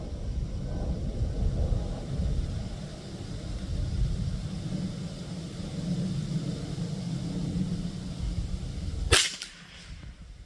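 A single sharp crack from a Savage Model 62 .22 LR rifle fired at can targets sounds near the end, after a long stretch of low outdoor rumble.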